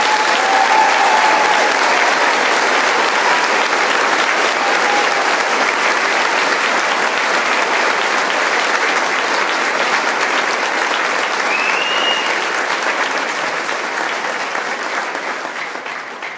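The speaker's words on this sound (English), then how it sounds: "Please join me in a round of applause as we celebrate our veterans." A school gym audience at a Veterans Day program applauds veterans with sustained, dense clapping that stays steady for over fifteen seconds and tapers slightly at the end.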